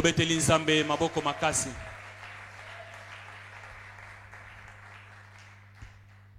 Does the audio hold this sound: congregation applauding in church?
yes